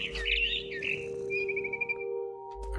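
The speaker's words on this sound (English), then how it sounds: "It was a barn swallow going back to her nest." A barn swallow chirps in a quick bright flurry of tweets that trails off, over a faint steady electronic hum, in the video game What Remains of Edith Finch.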